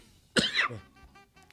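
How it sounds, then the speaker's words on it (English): One close, raspy cough with a throat-clearing quality, short and sharp, followed by faint breathy sounds in an otherwise quiet room. "if I'm coughing in your ear when you're working out, I apologize"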